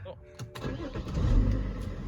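A tuned BMW X5 35d diesel engine with its emissions equipment deleted and a bigger downpipe cranks and catches, then settles into a low rumbling idle that grows louder, with some talk over it.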